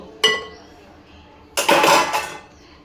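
Dishes, pots and cutlery clattering in a home kitchen: one sharp clink, a pause, then a longer, louder burst of metal and crockery knocking together close by.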